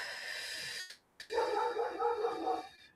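A pet dog barks or whines in a short run of soft, muffled sounds heard alone against a steady hum, with no talking.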